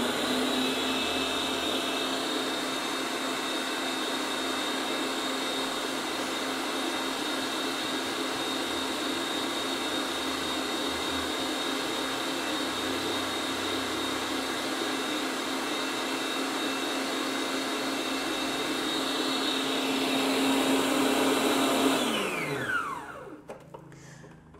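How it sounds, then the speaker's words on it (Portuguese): Electric stand mixer whirring steadily as it beats cake batter for a Pernambuco rolled cake, a constant motor hum holding at medium speed before winding down and stopping near the end. "Quem tiver uma batedeira mais simples pode deixar numa potência maior."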